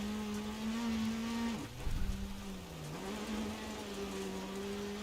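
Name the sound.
rally car engine in DiRT Rally video game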